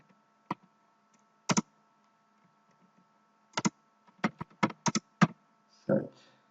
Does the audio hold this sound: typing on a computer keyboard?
yes